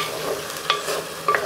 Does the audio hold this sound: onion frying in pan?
yes